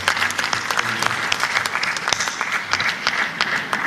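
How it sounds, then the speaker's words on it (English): Symposium audience at an oil and gas conference applauding, a dense, moderately loud burst of many hands clapping with sharp individual claps standing out, with no talk. "Maybe a round of applause for the audience."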